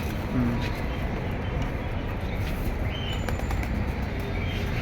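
Pakistani high flyer pigeons coo softly amid a dense background of rustling and ambient noise, with people talking nearby.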